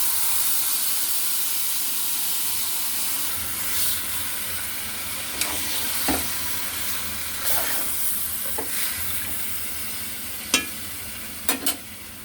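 Beef pieces added to fried onions in hot oil, a continuous loud sizzle and hiss close by with a few sharp clicks and spatters scattered over it, no talking.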